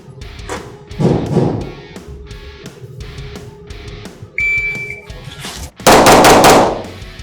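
Handgun shots fired by a shooter moving from the holster, a rapid series of sharp, loud cracks in quick bursts with ringing echo and a high electronic beep between strings, no talking.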